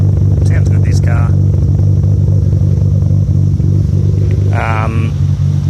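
A BMW E30 Alpina C2 tribute car runs with a loud, steady low engine drone, close up, while a voice talks briefly over it.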